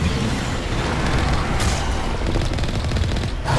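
Starship weapons fire in Mass Effect Legendary Edition: a loud, continuous roar of rapid automatic blasts and rumbling combat noise that fills the whole stretch without letting up, with no voices.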